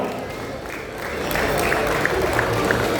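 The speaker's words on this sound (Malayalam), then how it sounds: "റാൻഡശ്രീ ബോയ്സ് എല്ലാവരും ഒന്ന് കൈയടിച്ചേ" A crowd at a prize ceremony applauds the second-prize winning team, producing dense, steady clapping and crowd noise that swells slightly partway through.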